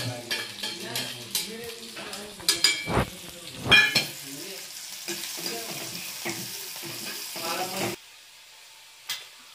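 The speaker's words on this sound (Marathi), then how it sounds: "कांदा टाकू आता. तेल टाकून घेतला. कांदा मिरची टाकून साधीच बनवायची." Onion and green chili sizzling in hot oil in a pan for a simple wet cashew vegetable dish, with stirring clatter and bursts of frying noise, fairly close, settling into a quieter sizzle near the end.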